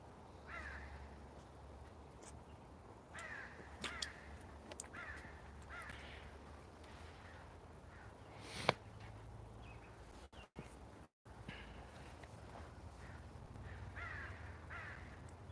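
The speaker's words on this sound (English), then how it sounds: "Too many damn crows." Crows cawing at a park, many harsh caws repeating at irregular intervals from several birds, some close and some farther off, over faint outdoor background noise.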